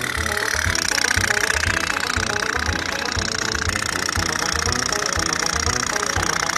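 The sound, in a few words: candle-powered putt-putt toy boat engine sound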